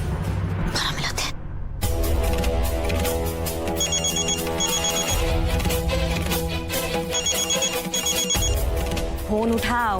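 Telephone ringing indoors, with repeated bursts of an electronic ring tone sounding over continuous dramatic background music.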